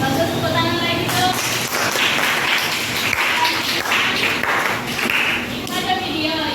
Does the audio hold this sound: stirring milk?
no